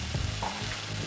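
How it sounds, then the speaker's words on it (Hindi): Spice paste with turmeric and red chili powder frying for egg curry, a brief dense sizzle with stirring movement, close and even, no talking. "इस मसाले को आपको अच्छे से अभी भून लेना है"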